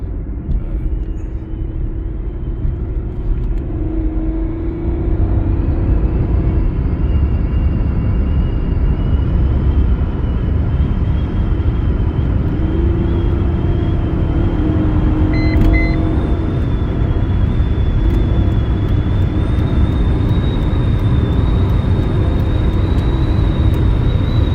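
A 1997 Mitsubishi Magna TF accelerates from a standstill to 110 on a freeway, heard from inside as a steady, loud engine and road roar with rising tone through the gears, continuous for the whole stretch.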